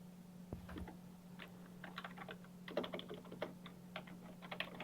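Fingers type a password on a computer keyboard while Linux Mint is set up on an AMD Phenom II X6 1055T desktop, a quiet run of rapid, uneven key clicks over a steady electrical hum.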